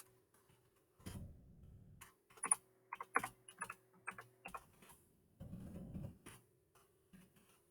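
Computer keyboard typing a short comment, with bursts of quick key clicks and a few louder taps between quieter stretches, close and fairly faint with no talk.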